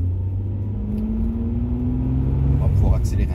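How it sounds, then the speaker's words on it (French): A six-cylinder car engine builds revs with a rising drone, loud and close, holding a steady low rumble while someone talks over it. "je sais pas si on entend bien le bruit du 6 cylindres"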